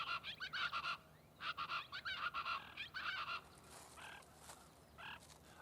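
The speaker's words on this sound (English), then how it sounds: "the chachalaca, a noisy, gregarious bird common at the Santa Ana Wildlife Refuge" Chachalacas, noisy gregarious brush-country birds, calling at the Santa Ana Wildlife Refuge: loud, raucous repeated bursts in several rhythmic volleys, close and clear, with fainter calls near the end.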